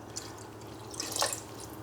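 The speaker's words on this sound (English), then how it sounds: "I might just add a touch more water" Water trickles and drips into a pot of pumpkin soup, a light splashing pour that swells briefly near the end, close and fairly quiet.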